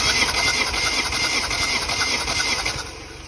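The engine of a Cooper S Clubman cranks over steadily during a compression test on cylinder one, a loud, close, continuous whirring churn that drops off near the end.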